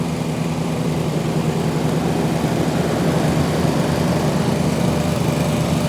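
Split Fire 2265 log splitter's small gasoline engine running at steady speed outdoors on a snowy day, a continuous loud buzzing drone with no change in pitch.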